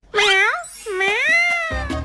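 A cat meows clearly twice in close succession, drawn-out rising and falling cries heard up close, with a brief noise at the end and no talking.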